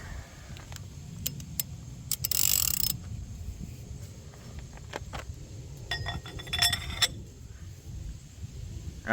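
Metal clinks and a sharp ratcheting crack from a wrench breaking loose lug nuts on a third-generation Mitsubishi Eclipse, with scattered tool knocks over a low background rumble.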